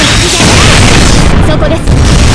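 A heavy, loud boom from a Marmiadoir attack in Fate/Grand Order fills the moment, a dense sustained explosion roar with little letup across its two seconds.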